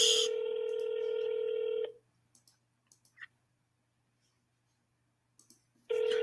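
Telephone dialing for a call that goes unanswered: a loud, steady tone for about two seconds, a few scattered clicks through near silence, then the tone starting again at the end.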